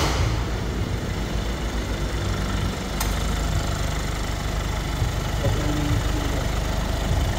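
A Foton Tunland V7 pickup's Cummins diesel engine idles steadily at close range, a continuous low rumbling drone with no change in speed, and a brief click partway through.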